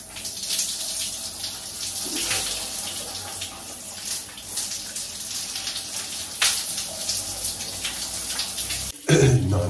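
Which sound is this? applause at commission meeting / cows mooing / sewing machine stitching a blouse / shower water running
shower water running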